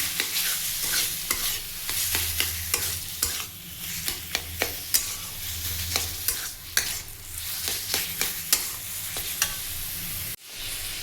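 Taro greens stir-fried together with coconut in a pan, a steady close sizzle broken by repeated scraping and clacking of a spatula stirring the greens, sharp knocks spaced through the whole stretch, no voices.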